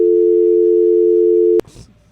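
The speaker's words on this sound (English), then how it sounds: "Dial tone." A steady telephone dial tone drones loud and unbroken on the line after the caller in a limo talk call-in show hangs up, cut off abruptly by a click and brief noise near the end.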